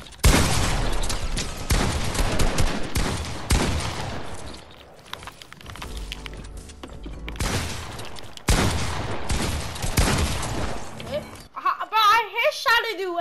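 Rapid bursts of automatic gunfire in a first-person shooter video game, loud and dense in several long volleys with brief gaps, while players talk over the shooting.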